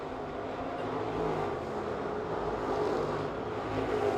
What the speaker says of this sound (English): As the field settles into green flag action, Pearson Williams seems to be stretching tha